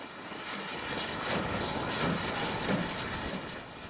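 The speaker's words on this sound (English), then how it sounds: "4555 departs with another freight train." Locomotive 4555 departs with a freight train at the East Somerset Railway gala, a broad rumbling hiss that swells and holds with faint rhythmic chuffs, heard from moderate distance.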